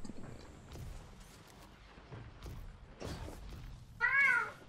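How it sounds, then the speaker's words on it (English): A cat meows once, fairly close in a room, a clear wavering cry near the end that rises over low game sounds and soft knocks. "Oh no, not this cat."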